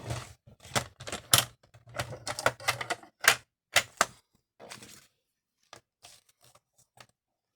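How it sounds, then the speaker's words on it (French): Magazine paper being creased and folded into a card, heard as a string of sharp crisp cracks and rustles in bursts, then a few sparse quieter taps near the end, with no talking. "Je vais bien marquer mon pli."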